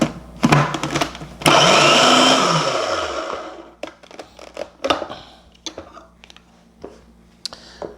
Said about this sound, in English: 4 batches to get all the cauliflower chopped up in the food processor